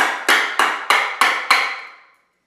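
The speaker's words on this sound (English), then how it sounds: "So now you've cracked the nut of the avocado." An avocado pit is struck five times in an even rhythm, each sharp, close knock ringing briefly before the last one fades into silence.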